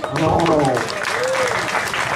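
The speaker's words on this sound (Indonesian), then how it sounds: "Tepuk tangan malu." During a Balinese Calonarang temple performance at Pura Puseh, Desa Ambengan, a crowd gives a short burst of clapping. Voices are heard over and around it.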